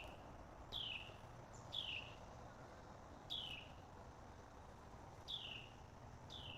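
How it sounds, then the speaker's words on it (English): A Carolina wren in a backyard repeats a short, bright descending chirp about once every second or two, five calls in all, clear but at a moderate distance over a faint steady background hum. "I've been hearing this little chirping in the yard. It's a Carolina wren."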